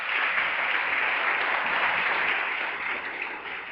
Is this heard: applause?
yes